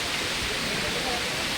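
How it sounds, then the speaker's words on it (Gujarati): A mountain stream rushes between rocks on the route to Kedarnath, a steady, dense roar of water filling the scene from close range. "અહીંયા મસ્ત મજાનું ઝરણું, કરોડોના વચ્ચેથી આવતું પાણી"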